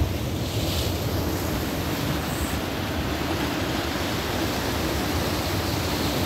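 Ocean surf breaks and washes steadily along the shore near Coquille lighthouse outside Bandon, Oregon, a loud continuous roar mixed with strong wind buffeting the microphone, with no talk.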